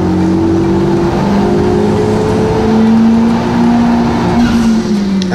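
A Honda Civic Type R FK8 holds a steady, loud engine drone on a dyno during a tuning pull, its pitch slowly rising and dipping as the engine revs under load, with no talking.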